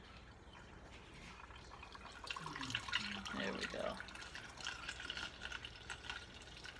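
Freshly made celery juice trickles and splashes into a 16-ounce jar, a quiet close pour that swells in the middle and tapers off, with a few soft words spoken.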